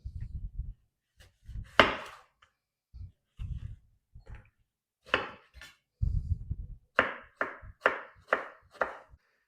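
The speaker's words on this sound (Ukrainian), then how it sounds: "Далі нарізаю хурму." A knife cuts through persimmon on a board, sharp slicing strokes with dull thuds, the last several coming in a quick, even series, close and alone.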